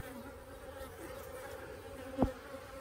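An Asian hornet trapped in a bottle trap buzzes steadily and close throughout, with one brief sharper knock near the end.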